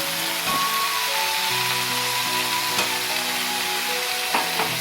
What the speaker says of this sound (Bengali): আলু এবং পটলগুলো দিয়ে দেবো একটু কষানোর জন্য।